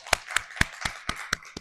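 Seven sharp claps from a church congregation giving thanks after worship, spaced evenly and fairly slowly, each a distinct crisp burst in a quiet hall with no voices.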